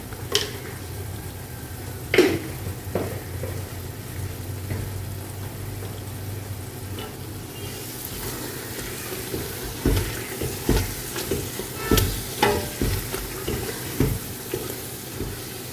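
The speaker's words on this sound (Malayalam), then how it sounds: "ഇതെല്ലാം കൂടെ നന്നായിട്ടൊന്ന് വഴറ്റാം സവോളയൊക്കെ നന്നായിട്ട് വഴന്നിട്ടുണ്ട്" Onions being sautéed with Kashmiri chilli powder and garam masala in a pan for chicken biryani, giving a low steady sizzle with intermittent sharper scraping and stirring clatters that grow busier toward the end, with no voices.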